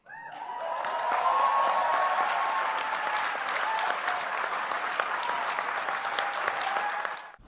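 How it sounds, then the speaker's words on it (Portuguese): Delegates applaud at an international negotiating conference, a full, sustained round of clapping from a large room that swells in quickly, holds steady for several seconds and then cuts off. "Sob aplausos dos delegados"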